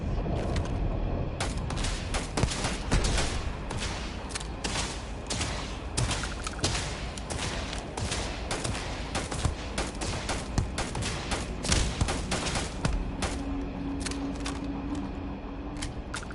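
Dense, sustained gunfire from the space shooter game Starfield, a steady barrage of sharp shots and bursts packed tightly together, loud and continuous with a low rumble beneath.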